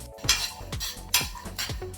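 A spoon scrapes and clinks against a pan as spices are roasted and stirred over a medium flame, several close rhythmic strokes in quick succession.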